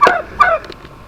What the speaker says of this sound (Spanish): Es un ave, tiene plumas, tiene su piquito. Se trata de un pavo